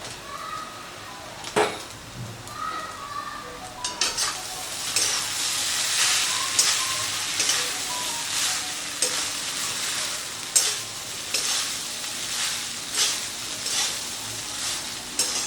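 Cooked rice is stirred and mixed in a hot pan with salt while making lemon rice, soft sizzling under repeated scraping and spatula knocks against the pan, close and irregular, with no voices.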